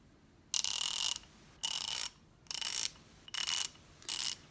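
Five quick bursts of fine clicking from a 120-tooth half-inch drive ratchet being swung back and forth after switching direction, close and crisp with short quiet gaps between strokes.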